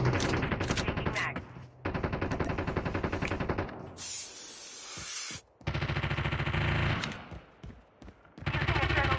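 Rapid automatic gunfire in Call of Duty Mobile on the Alcatraz map, loud bursts with short pauses and a hissing gap in the middle of the run.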